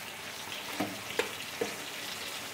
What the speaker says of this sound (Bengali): আমি ঢাকনা খুলে নেড়ে চেড়ে দিচ্ছি, জল বেরোচ্ছে